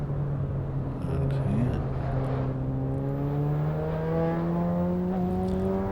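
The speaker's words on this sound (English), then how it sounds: "I love the sound of this car." A race car engine in the Assetto Corsa EVO racing game revs and climbs steadily in pitch through a gear, a smooth, sustained drone with rising harmonics, audible beneath a speaking voice.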